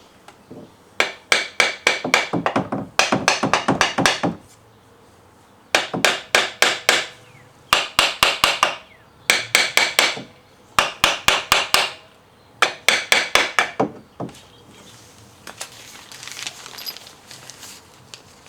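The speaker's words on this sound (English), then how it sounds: "I'm just going to give it a little tap just to seat it all the way." Hammer taps seating a part onto an engine long block during final dressing, delivered in several quick bursts of sharp metallic strikes separated by short pauses, close and loud with no talking.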